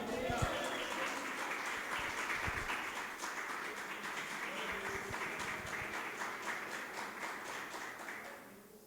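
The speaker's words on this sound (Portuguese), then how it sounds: "Se você acredita, aplauda o nome do Senhor." A church congregation applauds during a Portuguese-language sermon, a sustained wash of clapping with a few sharper taps, fading toward the end.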